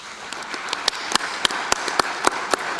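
An audience at an awards gala claps in a scattered, spread-out way: separate sharp hand claps ring out over a soft room murmur and gradually fall into a loose rhythm.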